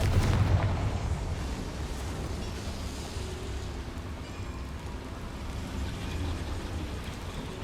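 Confringo blasting spell explosion in the video game Hogwarts Legacy, a sharp burst at the start followed by a long rumbling, crackling decay that lingers as a low, noisy roar.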